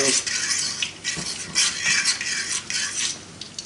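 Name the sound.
stirring in frying pan with fork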